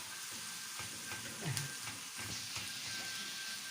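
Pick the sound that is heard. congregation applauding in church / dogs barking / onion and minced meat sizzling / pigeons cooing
onion and minced meat sizzling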